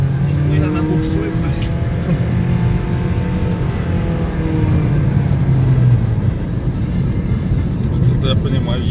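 A Mitsubishi Lancer with a 1.8 engine and CVT accelerates hard during a test run, its engine droning loudly in a steady, rising whine from inside the car.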